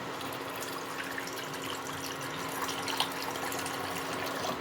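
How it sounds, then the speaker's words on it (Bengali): A bowl of water poured into a pan of curry for papda fish gives a steady, close rushing splash that holds at an even level for the whole stretch. "এবার এর মধ্যে আমি জল দিয়ে দেবো ঝোলের জন্য। এক বাটি দিলাম"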